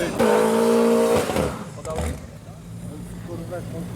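Racing cars launch at a quarter-mile drag race in Mielec: a loud, steady engine whine holds for about a second, then breaks off and fades into rough, distant engine rumble and track noise.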